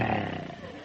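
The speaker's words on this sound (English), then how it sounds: "the air was rent by the roar of a lion" A lion's roar used as a sound effect in a 1955 radio comedy show. It comes as one loud, sustained, rumbling roar that fades slightly toward the end, with no talk over it.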